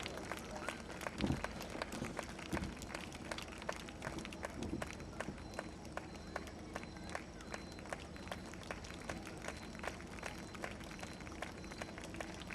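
Applause at a Baptist church gathering, a crowd clapping steadily in a continuous patter that holds for over ten seconds without a break.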